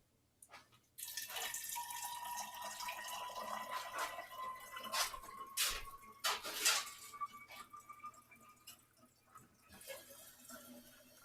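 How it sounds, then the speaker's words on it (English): Liquid being poured carefully into a blender bottle for a volume measurement, a faint steady trickle with splashy gurgles and drips that start abruptly and taper off toward the end. "I have to pour kind of carefully so I don't spill."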